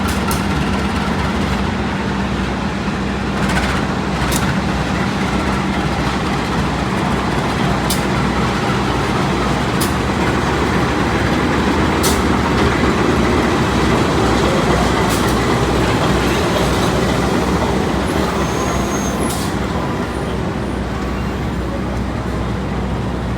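The Malabar passenger train, running from Malang toward Bandung, shunts onto track 2 at a station, a continuous loud rolling rumble with sharp periodic clicks of wheels over rail joints.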